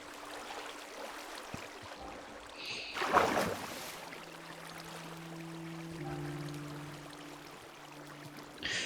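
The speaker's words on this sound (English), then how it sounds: "Let's see if we can clean this waterfall up a little bit." Waterfall water flowing in Minecraft, a steady hissing rush in the background with a brief louder splash burst partway through and faint tones over it.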